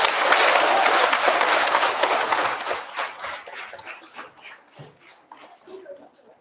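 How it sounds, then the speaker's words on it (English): An audience at a school eisteddfod singing competition applauds Mrs. Sefton: loud, dense clapping that swells at first, then thins and fades over several seconds into scattered claps and quiet room noise. "Round of applause for Mrs. Sefton"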